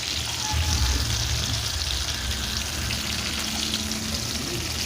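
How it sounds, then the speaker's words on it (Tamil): Fish sizzles and crackles in hot oil, a continuous close frying hiss with occasional faint stirring. "இப்போ இந்த மீனை வந்து நம்ம திருப்பி போடலாம் நல்லா ஃப்ரை ஆகிடுச்சு"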